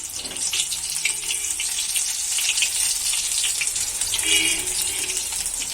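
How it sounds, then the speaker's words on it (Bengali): Eggplant slices frying in a little oil in a wok for a Bengali-style dish give a steady, close hissing sizzle that runs unbroken for several seconds with no clear pauses. "সব এক এক করে আমি দেখো এবার ভেজে নেবো"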